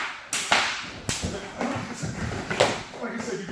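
A whip is swung at close range during a self-defense demonstration, with several sharp swishing cracks and thuds spaced out over background movement and noise.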